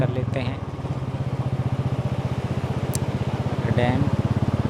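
A motorbike rides along a road toward the Garjiya Devi temple, its engine putting out a steady, close pulsing thrum that stays loud throughout, with brief faint higher sounds passing over it.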